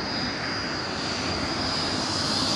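A naval jet's engine runs at full throttle on an aircraft carrier deck, a loud, steady, unbroken roar with no voices.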